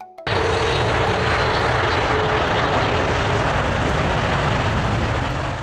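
Boeing 777-9 jet airliner engines roaring loudly and steadily, a dense broadband rumble that starts abruptly and holds constant throughout with no voices.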